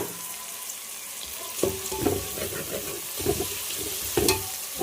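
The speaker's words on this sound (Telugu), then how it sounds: "పసుపు వేసుకొని మొత్తం ఒకసారిగా కలిపి వేసుకోవాలి. అదేవిధంగా టమాటాలు కూడా వేసేసుకున్నాం." Turmeric and tomatoes stirred into a frying curry in a pan, a soft continuous sizzle broken by several louder wet scraping stirs, close by; no talking.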